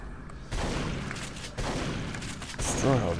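Three heavy shotgun blasts boom out roughly a second apart in the video game Duke Nukem Forever, each one loud and close, with a faint voice near the end.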